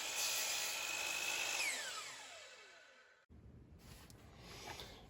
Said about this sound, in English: I'm going to cut a 30-degree chamfer on this just for decoration.